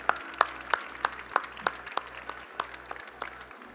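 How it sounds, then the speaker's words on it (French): An audience at a Montreal chocolate show claps for chef Nicolas in a sparse, rhythmic pattern, with distinct handclaps about three per second, fairly close, after a cooking demonstration. "Encore une bonne main d'applaudissement pour chef Nicolas, s'il vous plaît."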